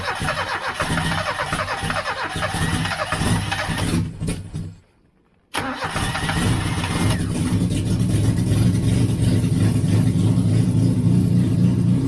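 1989 Austin Mini with a 998cc A-series engine running close by, a steady mid-pitched idle that cuts out briefly to silence, then restarts and settles into an even, smooth idle.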